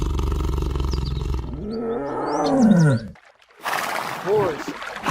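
A tiger lets out a deep, rumbling roar that swells and then drops away, followed after a brief pause by a second, growling roar with lower snarls, loud and close.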